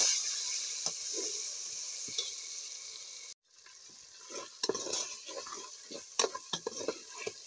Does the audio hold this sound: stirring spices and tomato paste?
yes